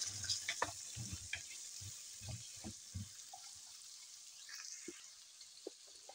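Cut potato strips frying in a pan for a chicken macaroni dish, a soft steady sizzle with scattered low knocks and clatters of utensils, fairly quiet and close, with no talking.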